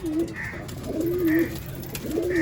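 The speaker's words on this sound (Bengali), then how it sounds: "ওখানে সব উড়ান পায়রাগুলো আছে" Madrasi flying pigeons in a loft give soft, rhythmic coos, three repeated rolling calls close by with no talk.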